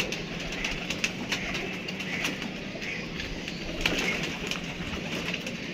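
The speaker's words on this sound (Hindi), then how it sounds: "ये देखें दोस्तों, ये भी कबूतर" Pigeons coo softly amid a low, steady outdoor hum, with faint fluttering and scattered light taps, the birds close but not loud.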